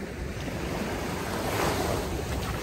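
Ocean surf rolls steadily onto the shore at South Miami Beach, Florida, a broad continuous wash of breaking waves mixed with wind buffeting the microphone, close and loud.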